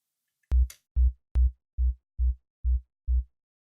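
Seven evenly spaced EDM kick drum hits, low-passed so the attack click is removed, thump as deep, rounded booms with short decays. The first few are slightly sharper, and the rest are softer and duller, with silence between them.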